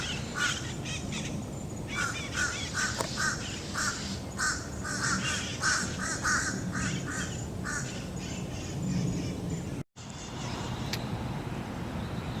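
Birds call out in alarm, a run of harsh, repeated caw-like cries in irregular bursts carrying over a steady outdoor background, fairly distant and with no voices.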